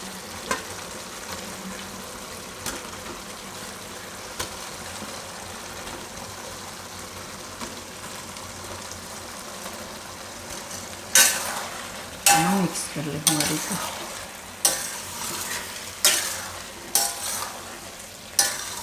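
Leftover-roti manchurian balls drop into hot oil in a Gujarati home kitchen. A steady sizzle of frying runs throughout, then grows louder in the second half with bursts of splattering and clinks of stirring in the pan.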